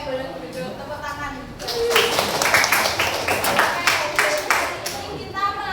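Classroom children clap their hands together in a burst of loud, uneven claps lasting a few seconds, with a teacher's voice speaking before and after the clapping.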